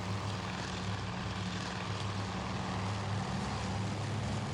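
Droning engines of WWII propeller aircraft over the Pacific sea in the naval strategy game Task Force Admiral, a steady, continuous roar with a low pulsing hum, no voices.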